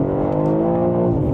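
A BMW M3 CS pulls hard in first gear, its engine note climbing steadily in a loud, close, rising rev, heard alone for a short burst.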